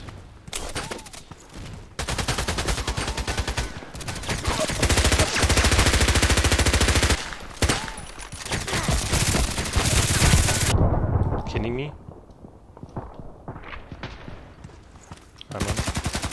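Rapid bursts of MP7 submachine gun fire and Glock pistol shots ring out in the shooter game Contract Wars, loud and close, in several long volleys broken by short pauses and quieter stretches near the end.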